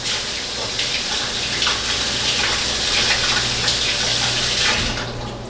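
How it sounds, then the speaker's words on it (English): A kitchen tap runs steadily as a tasting spoon is rinsed under the stream, a loud continuous gush of water with faint splashing, heard alone without talk and tapering off near the end. "I'm gonna wash my spoon so I can get another taste."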